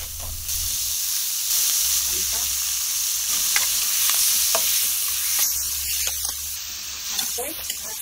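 A spoon scrapes and stirs monggo (mung bean) ingredients in a sizzling pan, with steady frying hiss and scattered clinks and scrapes, close up, with some faint talk in the background.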